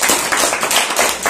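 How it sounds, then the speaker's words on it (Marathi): A class of children clapping loudly for a student, a short burst of quick, uneven claps close by. "जोरात टाळ्या वाजवा तिच्यासाठी"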